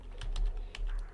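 Fingers type a search on a computer keyboard, a short burst of several crisp, closely spaced keystrokes heard up close with no talking.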